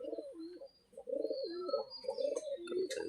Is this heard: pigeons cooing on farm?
yes